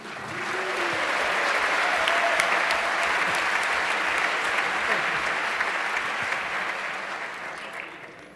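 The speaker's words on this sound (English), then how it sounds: "Round of applause for the Jeopardy!" Applause at a Hacker Jeopardy show during a 27C3 hacker congress, a dense, loud roar of clapping from a large audience that swells in, holds for several seconds, then gradually fades, with faint voices mixed in.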